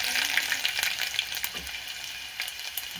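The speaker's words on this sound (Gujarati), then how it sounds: "આપણે લસણને નાખી દઈએ" Garlic frying in hot oil in a pan for a rajgira greens dish, a close, steady bright sizzle with occasional crackles and light stirring.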